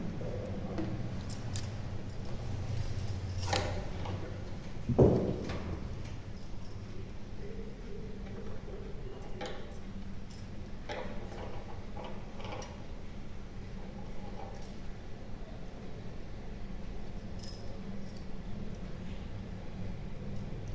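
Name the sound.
sewing cloth for a Krishna doll dress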